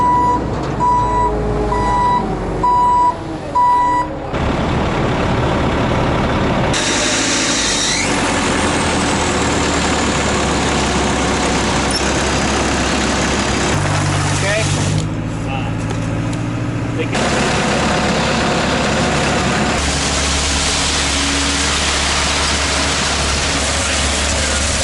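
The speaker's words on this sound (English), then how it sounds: "It is our concrete truck." A concrete truck arrives at a house construction site for pouring footings, with loud repeating reversing beeps over a rumbling, idling diesel engine, plus squeals and clatter nearby and people talking.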